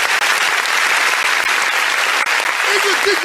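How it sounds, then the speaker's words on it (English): Loud audience applause at a youth dialogue Q&A session with Peter Obi, dense continuous clapping from a large crowd throughout, with a brief voice near the end. "A round of applause, ladies and gentlemen."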